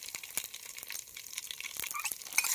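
Dried red chillies fry in hot oil with spices already in the pan, a moderate crackling sizzle with scattered sharp pops that builds slightly toward the end, heard close with no speech.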